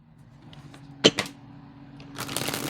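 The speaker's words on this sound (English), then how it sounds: "Let me give it one more shuffle." A tarot card deck is shuffled once up close, giving a quiet riffle with a sharp flick in the middle and a longer rustle of cards toward the end, and no talking.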